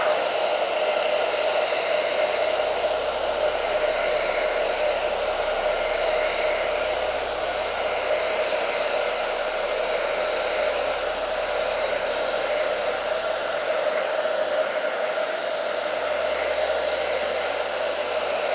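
A hair dryer runs in a steady, loud whoosh, held close to dry acrylic paint on a mixed-media landscape, with no break across the whole stretch.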